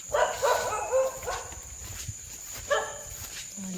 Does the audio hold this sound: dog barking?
yes